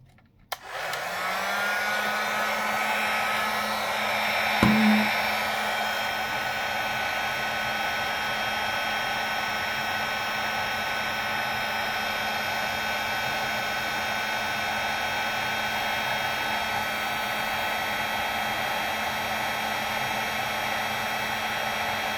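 A hair dryer, used to heat an FFP2 face mask for sterilization, whirs steadily and loudly for the whole stretch, with a brief click near the start and a small bump partway through.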